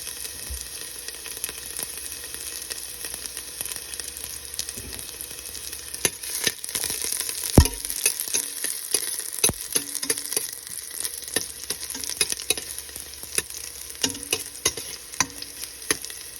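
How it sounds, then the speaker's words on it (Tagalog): Oil heats and fries in a pan for coconut-milk tilapia, a close, continuous crackling sizzle with scattered sharp pops and spits throughout, no voices. "So painit muna natin tong mantika."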